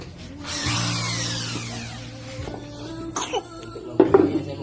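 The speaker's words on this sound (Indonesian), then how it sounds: "Saya menggunakan bor untuk" A power drill runs while a Yamaha Scorpio motorcycle's clutch rubber is being worked on, giving a steady whining hum with a pitch that shifts and drops, along with a few knocks and a cough near the end.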